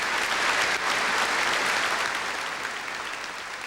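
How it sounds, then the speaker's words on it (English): Broad, sustained applause from a large crowd at Princess Diana's funeral, a thick continuous wash of clapping that stays loud and gradually eases toward the end. "Then a flicker of applause in the Abbey spreading to the thousands listening in parks and gardens outside."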